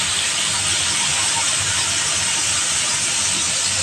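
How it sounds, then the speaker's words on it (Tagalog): Beefsteak frying in a pan, a loud, steady, dense sizzle close up that stays constant throughout with no talk over it. "Prito muna natin bago isama mamaya."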